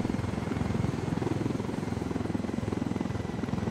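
A helicopter in a video game whirs with a steady, fast rotor chop, a dense rhythmic thudding held at even loudness throughout, with no voices over it.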